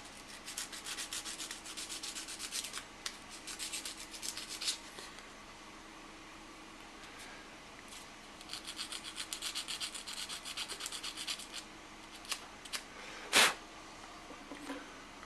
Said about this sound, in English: I'm just going to take a little emery cloth